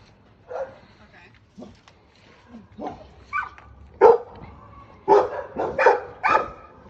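Dogs bark in short, loud bursts from close range around a private-property yard, several rapid barks and yips clustered near the end, with some quieter sounds between them.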